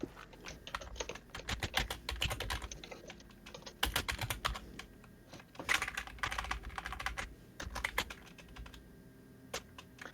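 Quick, uneven typing on a computer keyboard, dense bursts of clicking keystrokes broken by short pauses, fairly quiet and close, with no speech.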